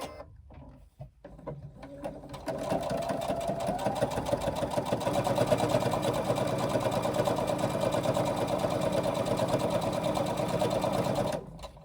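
A domestic sewing machine runs steadily for about nine seconds, stitching the edges of handbag strap connectors, after a few short starts and stops at the beginning; a close, continuous mechanical whir with rapid needle clatter.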